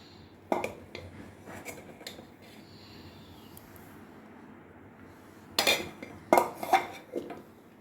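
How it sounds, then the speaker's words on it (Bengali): Rice is served onto a plate at home, with sharp clinks and taps of a serving spoon against dishes in a few quick bursts, separated by quieter pauses. "ভাত বেড়ে নিচ্ছি বাবা"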